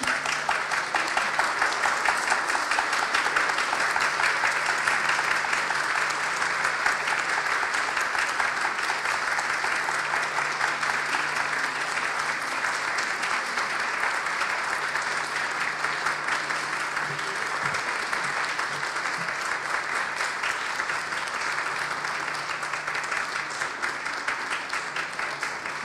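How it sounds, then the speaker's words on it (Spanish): A studio audience gives a long, steady round of applause as a tribute to the late actor Sergio de Bustamante on a television broadcast, with dense, even clapping continuing throughout without a break. "Pedirles un minuto de aplauso para Sergio de Bustamante"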